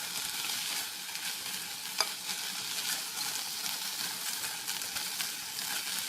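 Onions and chana dal stirring and frying in a pan for shami kabab, a steady broadband sizzle with soft scraping stirs throughout and one brief clink near the middle, no voices.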